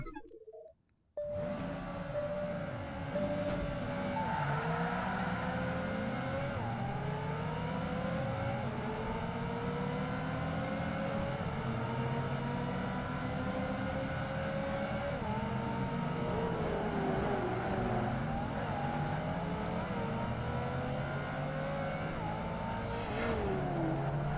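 Ferrari 360 Spider in Project Gotham Racing 2 video game, a loud, continuous engine roar climbing and shifting through gears again and again, with other race cars and brief tyre noise layered in, no one talking.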